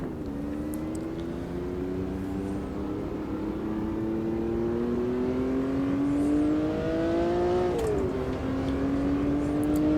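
A race car engine in the Automobilista 2 beta sim drones and climbs steadily through the revs with an H-pattern gearbox, then drops sharply at a gear change near the end before pulling again, alone and loud.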